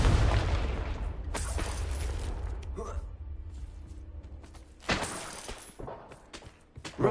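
A Confringo blasting curse explodes in the video game Hogwarts Legacy, a heavy boom with debris that rumbles and decays, followed later by a second sharp burst, with a voice talking in between.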